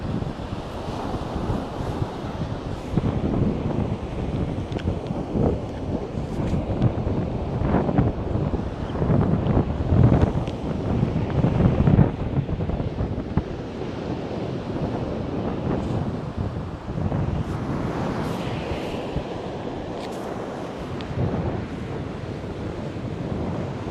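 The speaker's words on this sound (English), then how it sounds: "Does it sound okay with the wind?" Wind buffets a microphone at the ocean shore, a loud, continuous rumbling roar mixed with the wash of breaking surf throughout.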